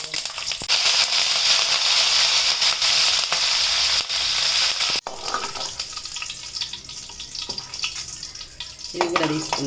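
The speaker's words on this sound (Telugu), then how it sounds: "ఇదే నూనెలో ఇప్పుడు మనం ఆవాలు జీలకర్ర వేస్తాం." Mustard seeds and cumin crackle and sizzle in hot oil while cooking bitter gourd fry, a steady dense frying hiss with scattered pops, close and loud throughout.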